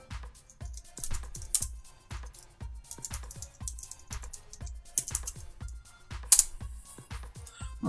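Computer keyboard typing during code writing: a steady run of light, close key clicks in uneven bursts, with a few louder strikes and short pauses, no voice.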